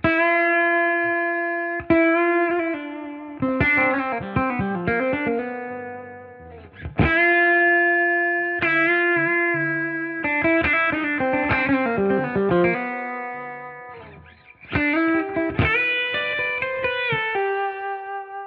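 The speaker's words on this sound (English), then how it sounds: "you can hear the differences between the tone of using a pick and using your fingers" Electric guitar playing a melodic phrase repeated several times, alternating between a pick's brighter, sharper attacks and fingers' softer, rounder ones, with effects and reverb.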